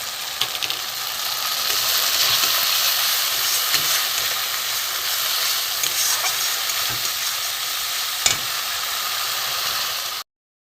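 Spices with pieces of fish-roe omelette frying in hot oil, giving a continuous bright sizzle and hiss with occasional pops and stirring scrapes, steady and close, no talking.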